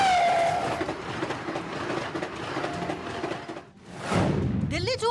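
The Delhi–Ajmer Shatabdi Express runs on its rails with a loud, steady rumble and rhythmic clatter of wheels over track joints, a whine fading early on, then a sharp surge of rushing noise and squeal near the end, while voices are partly audible beneath.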